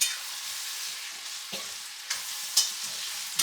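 Eggplant bharta is stirred and mixed in a hot pan, a dense continuous sizzle broken by a few scraping strokes of the spoon, close up with no voices.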